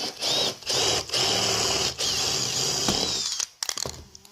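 A power drill bores a hole into an empty metal spray paint can, a steady whining drone with brief pauses between bursts, close and loud, ending in a few short spurts.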